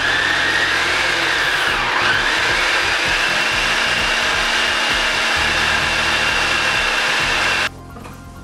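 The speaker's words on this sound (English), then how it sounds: "Using a food processor, add 3 cups of fresh basil. Process on low until the basil is a little bit chopped up." Fresh basil whirls in a food processor on its low setting, a steady, loud motor drone with a choppy blade texture that runs unbroken for several seconds, then cuts off abruptly.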